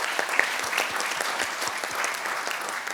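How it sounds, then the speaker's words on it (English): Warm, continuous applause from an audience at a UN side event on education for global citizenship, greeting a returning professor; dense, even clapping fills the full three seconds. "please give him a big applause."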